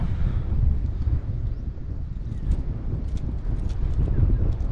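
Steady low wind rumble buffets the microphone throughout, with faint scattered clicks and knocks on top.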